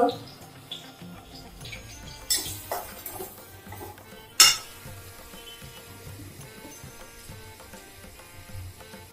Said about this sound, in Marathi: हे छान असं परतवून घ्यायचंय सगळं.